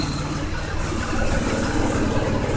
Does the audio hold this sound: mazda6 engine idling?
yes